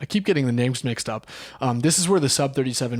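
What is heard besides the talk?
None of the usual background noises is heard.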